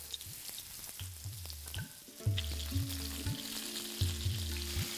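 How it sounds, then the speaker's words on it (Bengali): Pieces of pointed gourd (potol) fry in hot oil in a pan. Steady close sizzling and crackle continue throughout, broken by a few soft stirring knocks, with no voices. "এবার এই একই তেলে আমি ভেজে নিচ্ছি পটলটাও।"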